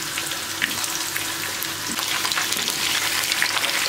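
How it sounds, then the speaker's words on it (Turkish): Zucchini sizzles and crackles steadily in hot oil, a dense continuous frying hiss with occasional louder pops. "Isınan yağımın içerisine kabakları bırakıyorum."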